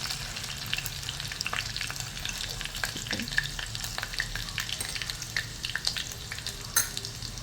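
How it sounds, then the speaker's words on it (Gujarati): Chopped garlic and cumin seeds fry in a hot pan, a steady close sizzle with small crackles and pops running throughout. "હવે જીરું ગોલ્ડન બ્રાઉન થાય એટલે એમાં 5 થી 6 કળી લસણની મેં ચોપ કરી હતી એડ કરીશું."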